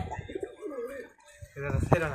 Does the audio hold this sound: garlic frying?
no